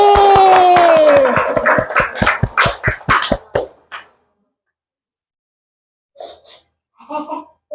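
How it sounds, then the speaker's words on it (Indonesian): Classroom of elementary schoolchildren clapping for a classmate, a quick run of sharp, fairly even claps that fades out and stops, followed by a brief bit of talk after a pause. "tepuk tangan untuk Suryadi"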